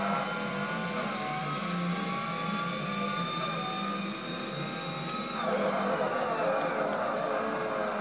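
A race car engine in the Forza video game holds a high, strained drone, shifting pitch as it revs and changes gear, loud and continuous throughout.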